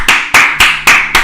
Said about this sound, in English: let's give a little applause to our chef Luigi